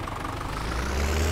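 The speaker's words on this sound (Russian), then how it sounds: "Вот еще один трактор." In Farming Simulator 17, a tractor engine idles with a low, continuous rumbling drone that swells slightly louder toward the end, with no voices over it.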